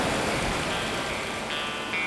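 Broadband surf noise from ocean waves at a beach, a continuous wash of rushing water that stays steady and fairly loud throughout, with no voices.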